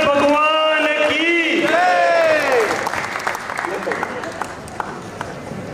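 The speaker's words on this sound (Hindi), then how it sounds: "तालियों की गड़गड़ाहट उनके परिवार की दो, हमारी मत दो।" An audience claps loudly at the Aadinath Bhakti pariwar yatra 2022 gathering, rising under a voice and continuing as sustained applause that slowly thins out.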